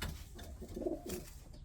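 Racing pigeon cooing close by, a soft low throaty coo in the middle of the clip over faint background noise.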